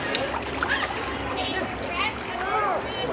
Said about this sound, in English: Look, they're splashing for you, Shy.